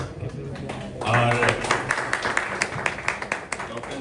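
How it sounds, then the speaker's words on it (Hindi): Applause breaks out at an eye hospital welcome gathering, starting after a brief moment of talk and then going on as steady crowd clapping with some sharper individual claps mixed in. "इनका जोरदार ताली के साथ स्वागत है"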